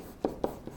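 A pen or pencil sketches a polynomial graph on paper, three quick scratchy strokes close up, each a short rasp with brief pauses between.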